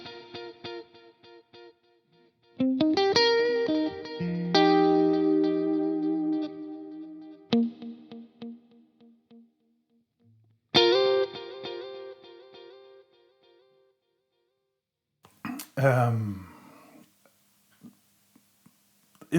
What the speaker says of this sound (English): there's the circular delay that I'm playing with right now